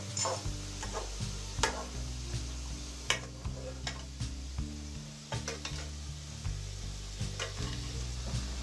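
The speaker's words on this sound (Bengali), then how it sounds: "আমি কাঁকড়াগুলোকে ভালো করে নেড়ে মিক্স করে নিয়েছি" Crabs frying in a pan being stirred, a close, constant sizzle punctuated by regular clicking scrapes and taps of the utensil against the pan over a low droning background, with no talking.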